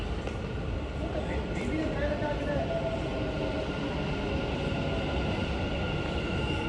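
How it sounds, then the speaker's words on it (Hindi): A metro train rumbles steadily as it pulls into a station in Dubai, a continuous roar of wheels and motors with faint squeals, while voices murmur in the background. "हमारी मेट्रो आ गई है, अभी हम बैठेंगे इसमें"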